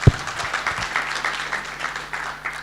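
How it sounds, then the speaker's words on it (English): Audience applause after a speaker introduction at a DevOps and cloud technology talk: a steady wash of many hands clapping at moderate loudness that continues for a few seconds without fading. "So round of applause for Dimitri"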